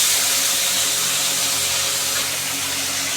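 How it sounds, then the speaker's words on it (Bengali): Boiled tomato dropped into hot spiced oil with ginger paste for kumror chokka, giving a loud, continuous sizzle and hiss up close. "এরপর আমরা দিয়ে দিচ্ছি টমেটো।"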